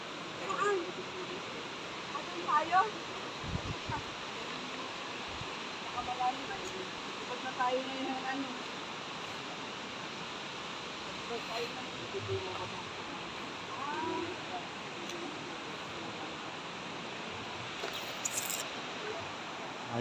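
A shallow river flows steadily at a riverside spot with a cottage in Calabaza, a soft continuous wash of water that persists through the whole stretch, with faint scattered speech and small noises over it.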